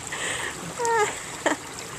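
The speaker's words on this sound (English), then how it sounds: "Oh, the first waterfall" Water trickles and splashes over a newly built backyard waterfall, a brief light burble with a couple of small splashes, close by and fairly faint.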